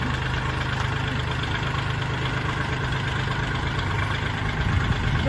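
A Kubota farm tractor engine runs close by at a steady idle, with a constant low rumble and a rapid, knocking pulse and no speech.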